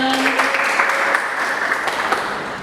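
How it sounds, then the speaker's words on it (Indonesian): A small talk-show audience breaks into a short burst of applause, a close, dense patter of clapping that fades over a couple of seconds. "tepuk tangan dulu teman-teman"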